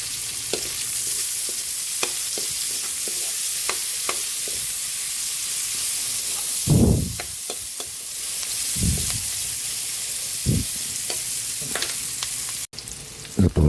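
Garlic, onion and ginger sauté in a pan with a steady broadband sizzle, punctuated by stirring scrapes and a few louder clattering bursts midway, with no one speaking.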